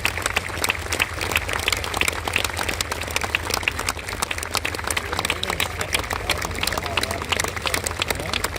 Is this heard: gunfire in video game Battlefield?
no